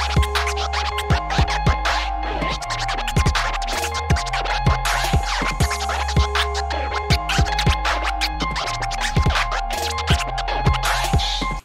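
Rapid DJ vinyl scratches, edited in Ableton, cut over a looping beat, with dense back-and-forth scratch strokes repeating steadily and loudly throughout, no voices.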